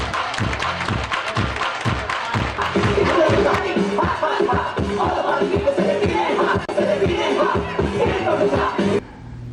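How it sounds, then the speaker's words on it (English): A church congregation at a 75th anniversary celebration claps hands in a steady rhythm along with music, the loud beats continuing for several seconds under crowd noise before stopping abruptly. "Everybody clap your hands."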